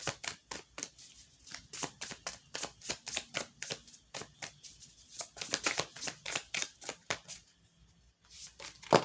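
A deck of tarot cards is shuffled by hand in a steady run of soft riffling bursts, fairly quiet and close, with a brief pause near the end and no one talking.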